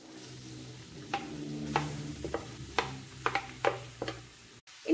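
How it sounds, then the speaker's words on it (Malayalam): Sliced onion, garlic and curry leaves sizzle in a pan for Kerala-style egg roast while a spoon stirs them, a steady close frying hiss broken by several sharp scrapes and taps against the pan. "ഇനി നമുക്കിത് നല്ലതുപോലെ വഴറ്റിയെടുക്കണം"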